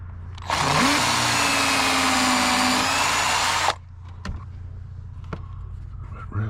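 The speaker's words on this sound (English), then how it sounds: "Now I'll drill the second hole." A power drill bores a hole through a metal bracket while a 12V socket is installed, running as one loud, steady whine for about three seconds with a short spin-up. A few faint clicks and handling knocks follow.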